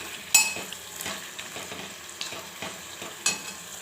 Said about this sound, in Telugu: చికెన్ వేసిన తర్వాత ఒకసారి కలిపేసుకుందాం